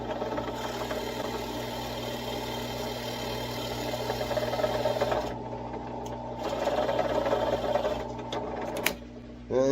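A power driver sets a fastener into a bass guitar neck with a steady, whirring mechanical hum that rises and falls in two long runs, then stops abruptly near the end, close and fairly loud.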